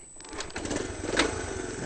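A vintage vehicle's engine starting, catching into an uneven, rapid mechanical chatter that holds steady and fairly close for a couple of seconds.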